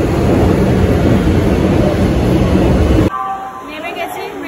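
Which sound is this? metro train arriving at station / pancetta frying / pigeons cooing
metro train arriving at station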